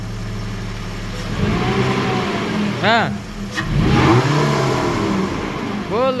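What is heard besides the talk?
car engine revving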